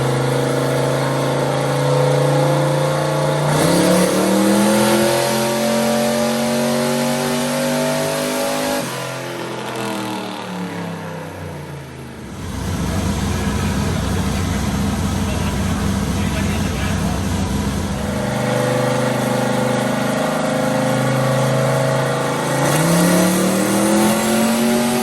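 An old farm truck with a big turbocharged engine revs hard on a dyno, loud rising pulls with falling gear-like sweeps, a short dip in the middle, then a sustained roar.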